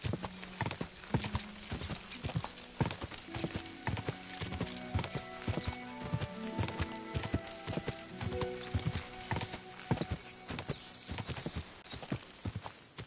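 Rapid, continuous hoofbeats of a horse galloping over a musical score in Kingdom Come: Deliverance II, steady and fairly close throughout.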